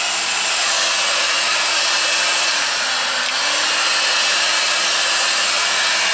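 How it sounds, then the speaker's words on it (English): A hair dryer blows steadily at close range, a continuous airy whoosh with a motor hum that dips briefly in pitch midway, no voices. "I'm just gonna use my air dryer"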